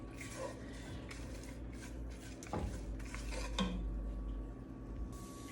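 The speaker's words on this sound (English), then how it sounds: "You're gonna start to just sort of stir and lightly saute." Veggies being stirred and lightly sautéed in a heated pan, with a quiet continuous sizzle and occasional utensil scrapes and clinks against the pan, close and fairly soft.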